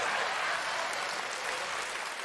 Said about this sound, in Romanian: doar aplaudați dacă sunteți de acord cu mine